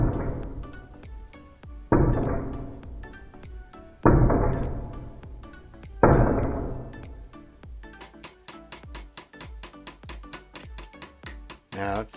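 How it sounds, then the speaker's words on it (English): A small hammer taps out a dent in a die-cast Dinky 253 Daimler toy ambulance held in specially ground vise grips: a few hard, ringing blows about two seconds apart, then quicker, lighter metallic taps in a steady run. "go in with my small hammer, and you can watch how that dimple disappears."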